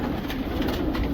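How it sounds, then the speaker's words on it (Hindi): Roughly 200 Hyderabadi pigeons in a flock make a continuous close, dense cooing and rustling, mixed with a steady low background hum. "ये भी तकरीबन 200 कबूतर होंगे"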